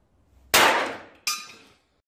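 Two sharp, loud bangs about three-quarters of a second apart as a hammer strikes a screw-and-nut firecracker, each crack ringing briefly before fading, with no talk.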